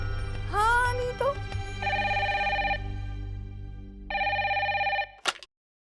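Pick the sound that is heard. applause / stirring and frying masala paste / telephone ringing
telephone ringing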